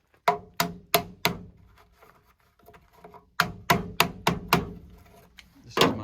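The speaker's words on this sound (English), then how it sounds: "Hammer, sir." A hammer strikes sharply at a camp work site in two quick bursts of four or five evenly spaced blows, loud and close, with a quiet gap between them.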